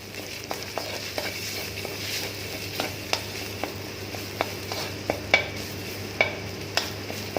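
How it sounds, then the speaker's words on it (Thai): Thai curry paste and pork belly are stir-fried in a hot pan, a constant sizzle broken by sharp, irregular scrapes and clanks of the spatula against the pan, close up with no talking. "ผัดให้หอมนะฮะ ผัดให้หอมกันเลยครับ"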